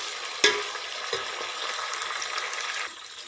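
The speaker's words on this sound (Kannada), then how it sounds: "ಈಗ ಟೊಮೊಟೊನ ಹಾಕಿ ಇದನ್ನ ಸ್ವಲ್ಪ ಬಾಡಿಸ್ಬೇಕು." Onions and tomato fry in a pan for rice upma, a steady close sizzle with a sharp utensil knock near the start and a softer one shortly after.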